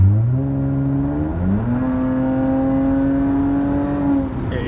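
A 2019 Toyota Avalon engine pulls hard under acceleration, its pitch climbing, dropping at a quick gear change, then rising again in a steady loud whir with no talking.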